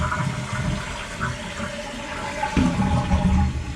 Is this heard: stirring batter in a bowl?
no